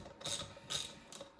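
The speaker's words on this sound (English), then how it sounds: "take a 7mm socket, place it in the end" Socket ratchet with a 7mm socket tightening the fastener on an Ambrogio L20Z02400A rubber wheel, giving three short ratcheting bursts of clicks spaced about half a second apart, faint and close, with no talk.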